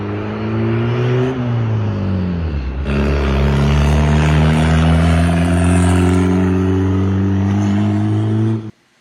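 A turbocharged Honda Accord with an F23 engine revs loudly and close, its pitch climbing, dipping briefly and rising again into a sustained high-rpm roar before cutting off abruptly near the end.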